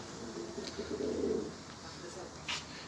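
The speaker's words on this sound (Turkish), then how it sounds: "Güzel bir kuş." A pigeon or dove coos softly on a home balcony, a short low murmuring call near the middle, with faint background noise and a brief higher sound near the end.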